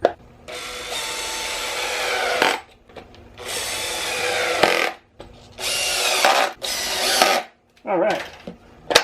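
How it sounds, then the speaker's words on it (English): Power drill driving screws to fasten ratcheting toe clips onto a mountainboard, several close bursts of whirring separated by short pauses, the motor pitch dipping as each screw seats, with brief speech between bursts. "I'm going to tack these down with some screws"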